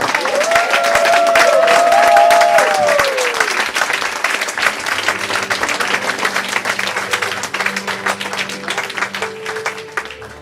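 A church congregation acclaims the Lord with loud, sustained applause and cheering that swells early and then settles into steady clapping, with a held keyboard-like tone joining underneath toward the end.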